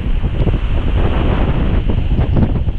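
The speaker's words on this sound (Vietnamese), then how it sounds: "sóng biển động ghê luôn rầm rầm rầm luôn" Rough, cold sea waves crash continuously on the shore at Quy Nhon, Vietnam, a loud, close roaring surf with strong wind buffeting the microphone throughout.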